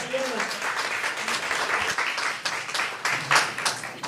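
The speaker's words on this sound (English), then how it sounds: "Please give him a round of applause." An audience applauding after a mariachi performance at a Day of the Dead press conference, steady mid-level clapping throughout while people talk over it.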